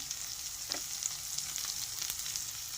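Chicken pieces for curry frying in a pan, a steady close sizzle with occasional soft stirring clicks, continuous and unaccompanied by talk.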